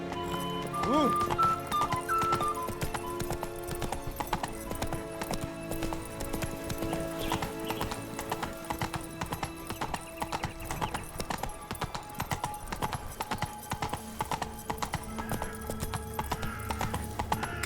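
Hoofbeats of Roach, the horse in The Witcher 3, pound in a fast, steady clip-clop gallop, loud and continuous throughout, with a brief whinny near the start and a rider's voice calling out over the running hooves.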